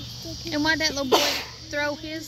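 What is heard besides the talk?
sneeze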